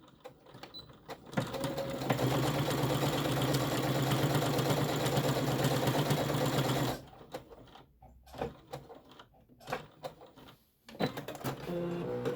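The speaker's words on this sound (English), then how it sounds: "And I want to just give this a stitch pretty close to the edge." A sewing machine stitches close to the edge of a fabric crayon roll, running in one loud, steady stretch of several seconds, then stopping and giving way to a few scattered handling clicks and bumps.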